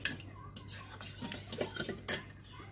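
A wooden spoon scrapes and stirs cream in a pot, giving a series of soft rubbing strokes and light knocks against the sides, close and fairly clear, over a low steady hum from the kitchen.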